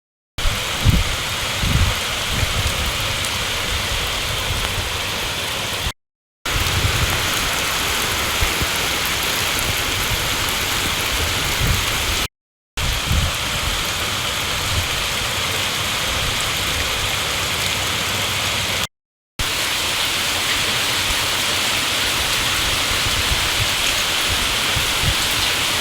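Heavy rain pours during flooding in Amreli, Gujarat, a dense, constant hiss of downpour close to the microphone. Brief silent gaps divide it into several long stretches, with occasional low rumbles underneath.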